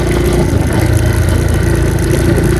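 A motorcycle engine runs loud and close, a steady rumbling idle with slight fluctuations throughout.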